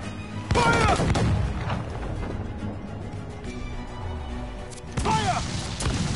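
Ship cannons fire in the Assassin's Creed Black Flag naval battle game, with two loud booming blasts about four seconds apart and rumbling game sounds between them.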